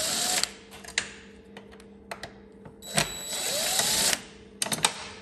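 A driver removes two Torx T27 bolts holding a latch on a Polaris RZR Pro R during a storage vault install. Short whirring bursts and scattered close clicks and taps come between quiet gaps, with no talking.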